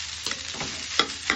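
Pork sizzling and frying in a pan with rice, a steady hiss broken by a few brief clatters of stirring, close and moderately loud.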